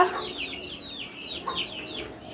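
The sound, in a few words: hen and native chicken chicks clucking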